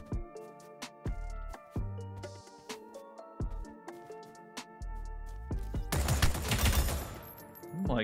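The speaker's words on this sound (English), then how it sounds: "Damn, that EBR. Oh my god, what a shredder gun." Bursts of EBR rifle fire in an online shooter game, sharp rapid shots with short pauses and a dense, loud volley near the end, over layered game effects.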